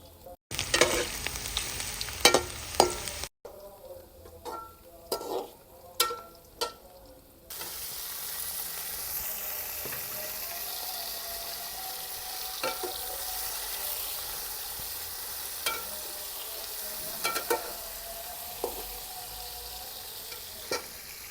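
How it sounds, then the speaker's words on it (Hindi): Onions and whole spices fry in a pan with a constant hissing sizzle. Scattered crackles and stirring scrapes rise above it, and the sound changes abruptly a few times. "इधर प्याज हमारे जो है ना वो हल्के हल्के से फ्राई हो चुके हैं, और अब हमने इसमें ना कुछ खड़े मसाले जो हैं वो डाल देंगे।"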